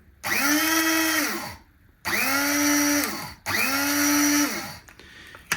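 A white Kiwi KSPG-4820 electric coffee and spice grinder runs in three loud close bursts of whirring motor, each lasting over a second, with short gaps between the pulses.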